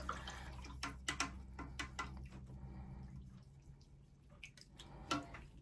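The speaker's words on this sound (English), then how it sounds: "now you can wash your brush." A paintbrush is swished and tapped in a small container of water, giving quiet intermittent drips, splashes and clinks in short bursts with pauses between.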